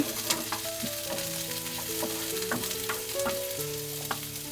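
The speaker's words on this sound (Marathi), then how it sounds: "आता कांदा भाजायला ठेवते" Onions frying in about half a ladle of oil for misal pav, browning to a reddish colour; a continuous close crackling sizzle with frequent stirring clinks and scrapes, no voices.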